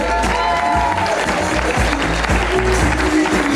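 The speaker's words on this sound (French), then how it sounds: "On peut les applaudir tous bien fort." Audience applause at a cabaret show fills the clip with steady, dense clapping from a crowd, loud and continuous throughout, without talk over it.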